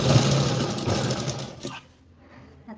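Sewing machine stitching a seam on a princess blouse, a loud, close whirring run of rapid needle strokes that slows and stops partway through, leaving near silence.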